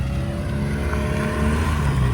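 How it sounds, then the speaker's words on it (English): Mini car rolling out of a pub car park, a moderately close engine note building slightly as it pulls away, steady and unaccompanied by voices. "Oh, we got the Mini rolling out."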